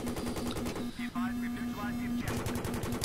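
Gunner autocannon in the video game Battlefield 3 firing fully automatic, rapid evenly spaced booming shots in a sustained burst, with a voice talking over it.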